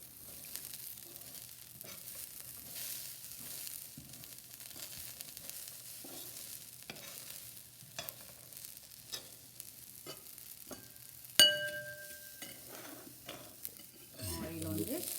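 Sprouted chickpeas stirred with spices and red chilli powder in a pan, with soft continuous scraping and a faint sizzle, a few sharper clinks of utensil on pan, and a louder scrape near the end.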